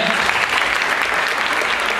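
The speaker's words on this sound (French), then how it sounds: "je vous demande de les applaudir" An audience applauds two researchers at a conference on métissage, steady dense clapping filling the room at close range without a break.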